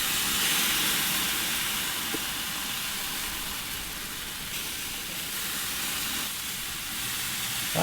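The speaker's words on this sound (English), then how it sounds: "Nothing like that sizzle" Marinated split chicken breasts sizzle on a hot grill, giving a loud, continuous, close hiss that holds steady throughout without pause.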